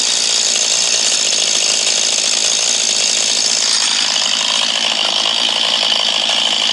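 Stihl MS211C chainsaw running after a cold start, a loud, close two-stroke engine whine that holds steady and rises slightly in pitch toward the end, with no talk over it.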